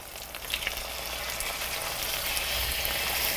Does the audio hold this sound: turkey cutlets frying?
yes